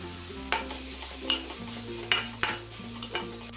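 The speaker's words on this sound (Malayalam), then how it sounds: "ഇനി ഇതിലേക്ക് 1/2 ടീസ്പൂൺ മഞ്ഞൾപ്പൊടിയും 1/2 table spoon Kashmiri red chilli powder ഇട്ട് ഇതൊന്ന് ഇളക്കി കൊടുക്കാം" Turmeric and Kashmiri chili powder stirred into onions frying in a pan for paneer shahi korma: a soft, even sizzle with a handful of spoon scrapes against the pan, close by, over a low steady background tone and no voices.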